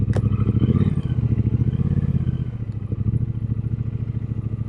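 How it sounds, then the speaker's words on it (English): A Triumph Speedmaster Chrome motorcycle engine chugging with a rapid, throbbing pulse, close and loud, with some rattling clatter as the bike rides along. "This is a lot of motorcycle"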